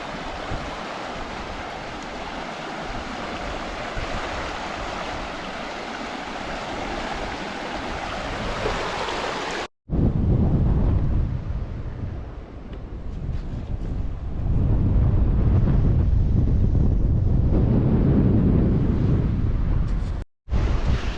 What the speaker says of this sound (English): You can hear the sound of the water